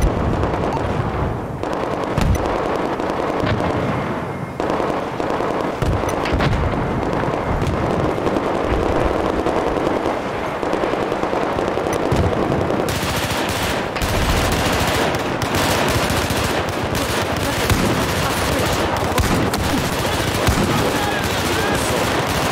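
Rapid gunfire in Battlefield 4 rattles on nearly continuously, dense automatic bursts mixed with heavier booms and explosions, loud and close, with a voice speaking briefly over the battle noise.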